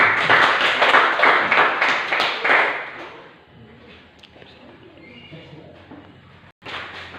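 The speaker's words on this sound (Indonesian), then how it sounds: "Berikan aplaus." A classroom group claps for group 1 in loud, rapid, uneven bursts for about three seconds, then quieter shuffling and taps follow before a brief final sound.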